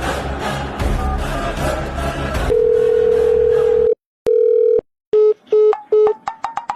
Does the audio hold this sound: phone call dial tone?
yes